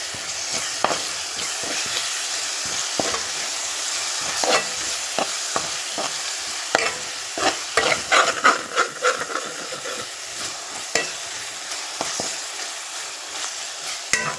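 Tomato puree fries and bubbles in a pan for a tamarind fish curry, a constant hissing sizzle broken by frequent scraping stirs and clicks of a spoon, heard up close without speech.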